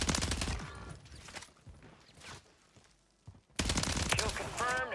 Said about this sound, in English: I honestly genuinely don't know who's shooting me.